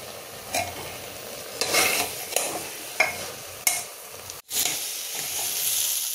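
Rice stir-fried in a pan for soya pulao: steady sizzling with repeated scraping strokes of a spatula, close and fairly loud, no voices.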